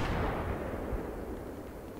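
Gunfire in Battlefield 3: dense, booming low rumbles of shots and blasts roll on steadily, with no clear gaps between them and no talking.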